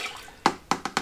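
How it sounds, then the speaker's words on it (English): Colostrum sample poured back into a bucket on a dairy farm, heard as a few short, close liquid splashes and drips in quick succession against quiet background. "we'll just pour our sample"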